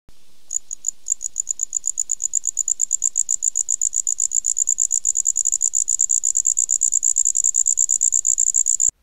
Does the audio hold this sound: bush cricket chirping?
yes